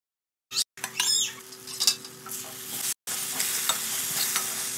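Brinjal pieces drop into hot oil in a pan for a fish curry, then a steady close sizzle and frying crackle continue with clinks of a spoon or utensil against the pan, interrupted by short silent cuts.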